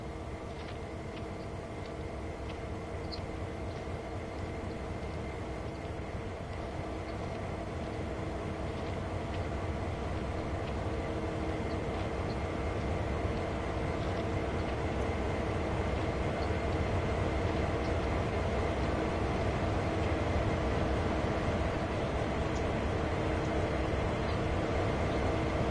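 A train moving in Train Sim World, shown as a steady, loud rumble with droning engine tones that holds unbroken for the whole stretch.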